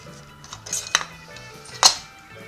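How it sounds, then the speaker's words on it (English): A knife slices down through a hot cooked artichoke on a serving tray, giving a couple of sharp clinks and scrapes against the dish amid soft handling noise, with no one talking. "I'm going to use my knife so I don't burn myself. And you just basically cut it down."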